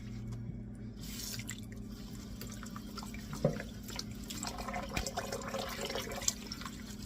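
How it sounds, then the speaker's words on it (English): Leafy greens rinsed under a running kitchen tap, a steady moderate stream of water with occasional drips and splashes against the leaves, close and continuous throughout. "So I give these a good rinse."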